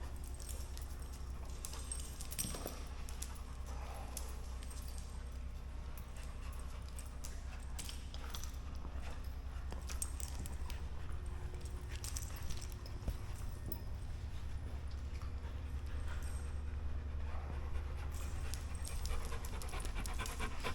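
Dogs pant steadily and shuffle about at a service dog training session, with faint footfalls and light jingling through a continuous low background, no voices.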